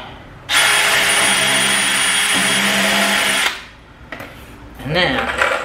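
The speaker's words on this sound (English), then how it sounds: "Pre-drill it." A power drill pre-drills wood, a 2x4 for a cornhole board, whirring steadily for about three seconds, then stops; faint handling noises and a brief voice follow.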